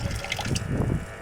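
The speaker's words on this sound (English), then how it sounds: "we got water leaking too" Water leaking from a bad seal inside a yurt, a steady close trickle and gush of running liquid with no voices over it.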